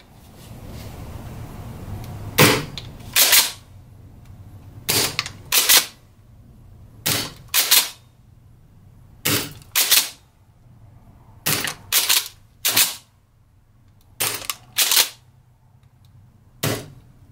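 A Gold Eagle M870 gas airsoft shotgun fires BBs in sharp, loud pops, about a dozen shots in irregular single and paired bursts separated by quiet pauses.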